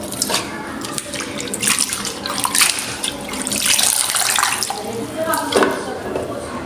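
Tap water runs and splashes while potatoes and vegetables are rinsed by hand in a home kitchen, a steady close rush with surges and swishes, and a voice speaks now and then over it.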